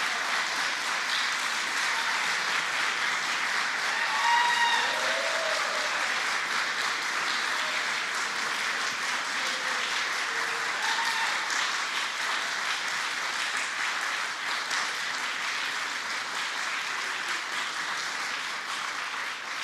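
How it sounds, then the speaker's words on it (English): A crowd at a press briefing at One World Trade Center gives steady, sustained applause, loud and even for about twenty seconds. "Give yourselves a round of applause."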